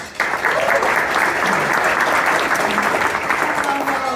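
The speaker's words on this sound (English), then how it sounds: "Let's give her a round of applause." At a colon cancer awareness event, an audience welcomes a speaker with loud, sustained applause that starts abruptly and holds steady as a dense wall of clapping, with faint voices mixed in.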